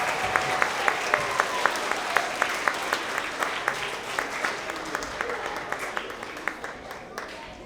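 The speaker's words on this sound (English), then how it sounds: "let's get another round of applause for all of these amazing readers" Audience at a 3rd to 5th grade school award assembly giving steady, sustained applause, many hands clapping together with a few sharper claps standing out, moderately distant and gradually fading toward the end.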